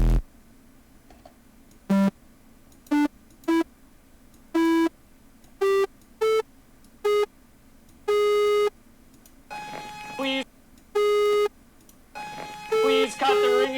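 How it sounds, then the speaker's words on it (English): Repeated ringing-tone sample in a dubstep production session, sustained electronic beeps in short and longer bursts, some tones held and layered, with pitches stepping up and down, clear and fairly loud with gaps of quiet between. "Please cut the ringing."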